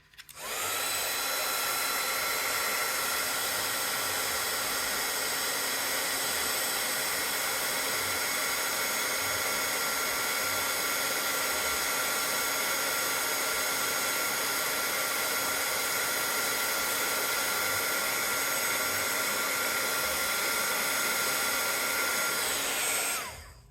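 A heat gun blows a steady, loud whooshing roar as it melts embossing powder, starting up and running continuously for over twenty seconds before cutting off, with no voices.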